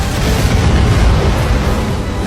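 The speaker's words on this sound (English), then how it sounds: "In an instant, a massive explosion occurs, destroying the entire defense line of the soldiers." A massive movie explosion as a grenade ignites a petrol canister, a loud sustained deep boom with roaring broadband rumble filling the whole moment, no voices.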